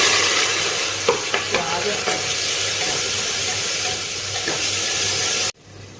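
Onions frying in a pan while being stirred, a loud continuous sizzle with a few scraping stir clicks, cutting off abruptly near the end.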